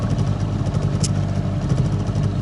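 A boat's outboard motor runs steadily at close range on an autumn river fishing trip, a loud continuous droning engine hum with no pauses.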